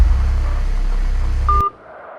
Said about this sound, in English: The phone disconnected before I could even understand what was happening.